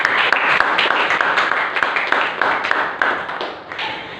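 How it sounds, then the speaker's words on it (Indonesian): Students in a sociology classroom clap for a classmate named Afia, producing a brisk burst of close, fairly loud hand claps with distinct individual strikes that gradually taper off. "tepuk tangan dulu dong buat Afia"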